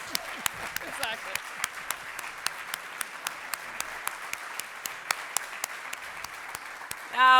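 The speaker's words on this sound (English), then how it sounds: "You don't get these kinds of applause very often in our community" An audience at a leadership conference claps at length, dense steady applause with sharp individual claps standing out, close and sustained, ending in a brief loud burst.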